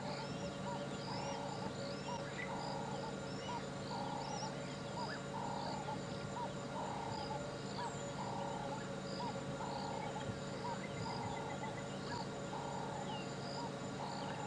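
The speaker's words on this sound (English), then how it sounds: "I heard an emerald-spotted wood dove, a couple of turtle doves." Dawn birdsong on a sunrise safari drive in the African bush, with an emerald-spotted wood dove and turtle doves heard as faint, repeated soft cooing phrases at a steady rhythm over a constant insect and cricket hum, distant and quiet.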